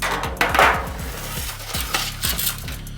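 Venison meatloaf mixture being scraped and pressed into a foil pan, with quick crinkly metallic crackles and soft thuds in an irregular rhythm, close and moderately loud, no talking.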